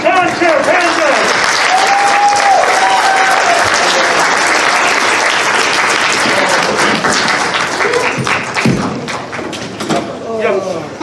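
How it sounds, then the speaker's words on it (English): Loud sustained crowd applause for an improv team at a comedy show, with scattered thumps and cheers mixed in, tapering off toward the end. "let's have one more round of applause for your timeshare, Pandas."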